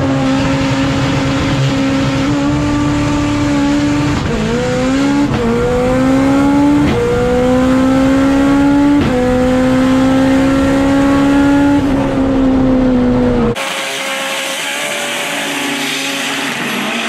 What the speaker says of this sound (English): A whole lot of tire chatter out of the Camaro, but he hangs on to it.